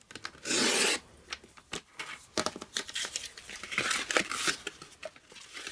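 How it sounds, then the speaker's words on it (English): A paper trimmer slices folded card while crafting a Halloween treat holder, with a loud sustained swish early on, then scattered scrapes, rustles and crinkling handling noises close by; no speech. "I prefer to do it with a trimmer. So fold these back and then cut."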